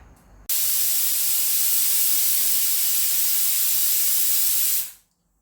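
A pressure cooker on a gas stove lets off a loud, steady steam hiss that starts abruptly, holds for about four seconds and then fades out. No one speaks.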